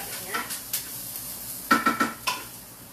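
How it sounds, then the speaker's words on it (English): Garlic and onion sizzle in a pan while a utensil stirs them, with a soft steady fry under a few sharp scraping clinks near the end, close by. "we're going to stir it though because we're going to have burnt garlic and onion in a second here"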